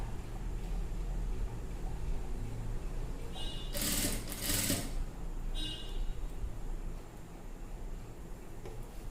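A sewing machine stitches piping onto a blouse neckline in a short burst of rapid mechanical whirring lasting about a second, set against a steady background hiss.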